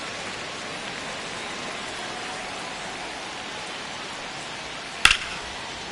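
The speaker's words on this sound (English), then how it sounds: "This rain is not letting up." Steady rain pours down at a ballpark in the MLB The Show video game, a constant broadband hiss of drops on the surface filling the whole stretch, with one brief sharp click near the end.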